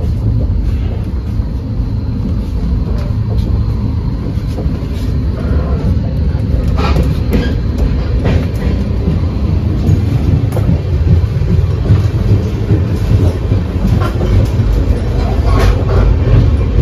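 Padatik Express running at speed, heard from inside an AC first class coupe: a steady, loud low rumble and rattle of the carriage on the rails continues throughout, with faint clanks over it.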